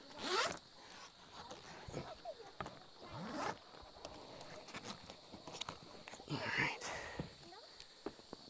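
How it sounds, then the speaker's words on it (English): A zipper is pulled around the cover of a CVT 3 Sisters rooftop tent in repeated close, raspy strokes, mixed with clicks and handling of the fabric and an occasional snag at the corners. "We'll just unzip this whole cover all the way around."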